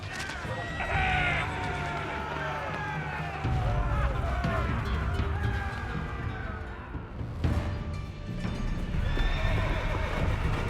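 Knights' horses in Age of Empires 4 neigh and whinny repeatedly over galloping hooves and battle clatter, with a narrating voice running underneath.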